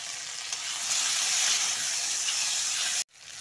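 Tomatoes and bitter gourd fry in a pan, making a dense, hissing sizzle that swells slightly in the middle and holds steady until an abrupt cut; no talking.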